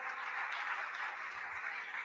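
Audience applause at a speech event on South Africa's solidarity with Palestine, a steady, even wash of clapping from a crowd, moderately distant and sustained throughout with no voices over it.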